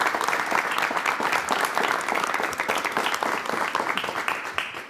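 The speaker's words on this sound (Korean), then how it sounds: "여러분 진심으로 축하와 환영의 박수를 보내주시면 대단히 고맙겠습니다" Studio audience applause at a Korean television talk show welcoming a mountaineer back from Everest, a dense, sustained burst of many hands clapping throughout, fairly loud and even without voices on top.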